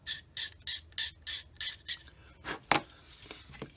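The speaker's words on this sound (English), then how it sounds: "So I think I'm going to have to do a little scraping." A hobby blade scraping down a seam on a plastic 1/48 Airfix Spitfire Mk XII model kit, a close, rhythmic series of short rasping strokes followed by a few scattered lighter scrapes.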